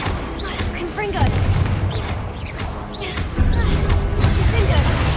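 Spell explosions from Confringo in the Hogwarts Legacy video game, a run of booming bursts and crackling blasts layered over game music and effects, loud and close.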